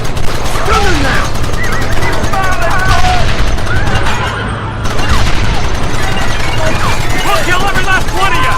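Dense gunfire in a Red Dead Redemption shootout, rapid overlapping shots and bursts firing steadily with only a brief lull, loud and continuous, with shouting voices mixed in.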